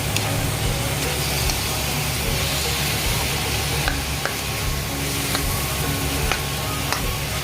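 Chicken pieces frying in a pan for a stir fry with broccoli in oyster sauce give a dense, constant sizzle with faint intermittent scrapes and taps from stirring, close and even throughout.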